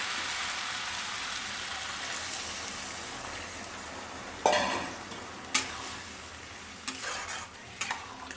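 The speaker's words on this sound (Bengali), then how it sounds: "এখন এর মধ্যে আমি জল দিয়ে দেবো" Water is poured into a pan of frying food, bringing a sudden loud hiss and spatter over steady background sizzling, then a few sharper sizzle bursts and utensil clinks.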